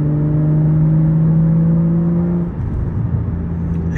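A manual-gearbox car engine hums close and loud at a steady elevated speed for over two seconds, then drops back to a lower, rougher rumble as the revs fall away.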